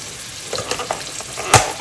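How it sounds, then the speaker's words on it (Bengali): Fried onion sizzles in a pan as spices are added one by one, giving a soft steady crackle with a few scrapes and a sharper burst near the end. "পেঁয়াজটা ভাজা হয়ে গেছে এখন আমি এতে দিয়ে দিব এক এক করে আমার মশলা"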